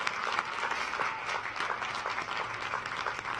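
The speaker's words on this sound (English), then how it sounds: "please join me now in giving a hearty round of applause" Audience applause at the 2019 University of Toledo undergraduate commencement ceremony, a broad steady wash of clapping from a large crowd in a big hall, continuous and fairly distant.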